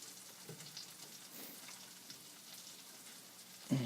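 Butter sizzles in a pan with garlic, a faint, continuous crackling fizz with scattered pops and no talking, ending in a brief louder clunk.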